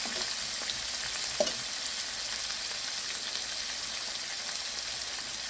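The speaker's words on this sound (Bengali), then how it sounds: "আমি ফ্রাই করে নেব, আস্তে আস্তে ভেজে নেব।" Two pieces of salmon fish sizzle gently in a pan on a stove, a steady, even frying hiss with faint scattered pops throughout and no talking.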